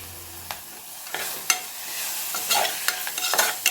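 Coriander and mint leaves sautéing in a pan for biryani-style tomato rice: a soft sizzle under intermittent scraping stirs of a spoon against the pan, close and fairly quiet, with several sharp clinks.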